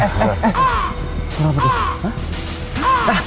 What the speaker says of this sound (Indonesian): Ini suara gagak tadi nih. Iya bener.